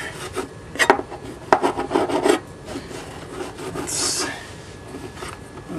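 Cutting and scraping model railroad scenery material by hand, with close rasping strokes in uneven bursts, then quieter rubbing and a brief brighter scrape.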